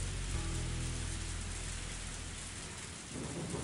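A heavy rain downpour in the Higurashi visual novel, a steady hiss of rainfall over a low rumbling undertone that fades briefly near the end before the rain swells back.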